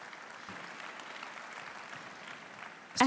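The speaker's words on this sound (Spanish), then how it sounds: "Vamos a aplaudir a Jesucristo." Applause from an audience in a church service, heard as a steady, moderately distant wash of clapping that holds evenly before a sudden louder burst at the end.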